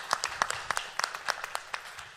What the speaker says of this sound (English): Another round of applause for our panelists and everything they contributed tonight.